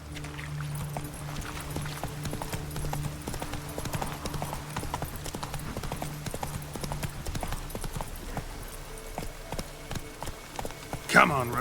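Roach, a horse in The Witcher 3 video game, gallops with a steady run of hoof clip-clops for most of the stretch, a low game score humming beneath, and a sharper burst of noise near the end.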